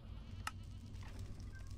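A Minecraft goat gives a single short bleat, faint and brief, over a low steady background hum.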